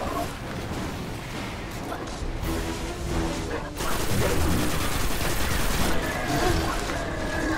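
Rapid gunfire and explosive impacts from a firefight in the video game Destiny on PS4, dense and continuous throughout, with a voice speaking over the shooting.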